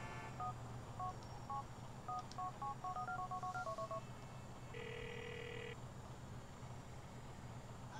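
A quick run of electronic keypad tones beeps out a number, followed by a brief dual-tone ring, over a low engine hum.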